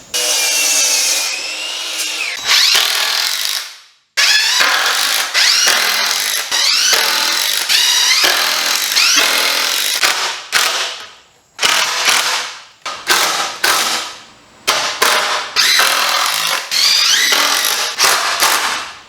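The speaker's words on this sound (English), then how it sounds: "I'll go ahead and cut the studs for the framing for the corners" Wooden lumber studs for chicken coop corner framing cut with a ratcheting, rasping saw, loud close bursts of cutting broken by brief pauses, with no voices.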